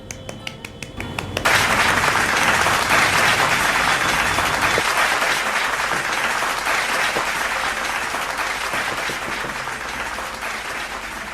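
After a quiet opening, an audience at a Hindi poetry recitation gathering breaks into loud, sustained applause to welcome a senior satirist, continuing unbroken and slowly tapering toward the end.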